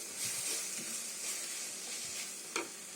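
Tomatoes fry in a pan for a South Indian chicken curry with a soft, continuous sizzle and faint stirring, plus one sharp tap near the end.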